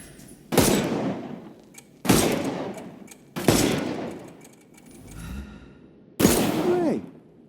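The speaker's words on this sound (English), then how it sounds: "Shoot off their armour." Gunfire in Sherlock Holmes Chapter One knocking armour off enemies: four sharp, loud shots with ringing tails at uneven intervals, plus a faint grunting sound between them and no speech.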